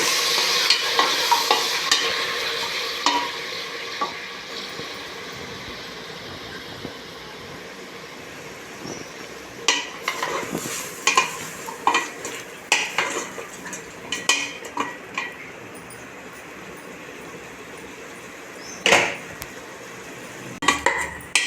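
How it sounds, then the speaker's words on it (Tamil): Country chicken gravy in a pan being stirred, Thanjavur village style, with a spoon scraping and clinking against the pan in irregular bursts over a soft, steady sizzle. "ஒரு மூணு நிமிஷம் உள்ள நல்ல எல்லா பக்கமும் கலந்து விடுங்க"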